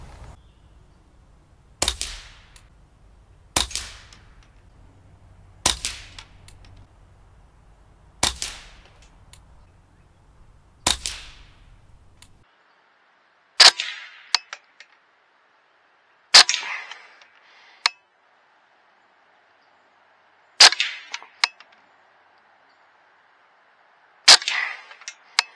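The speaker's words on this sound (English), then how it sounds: "The sound of the bullet hitting the target is almost as loud as the action of the gun." A series of sharp, quiet suppressed .22 rifle shots through a SilencerCo Warlock II with a metallic snap, about nine in all, spaced a couple of seconds apart, each followed by a brief clank of bullet hitting target.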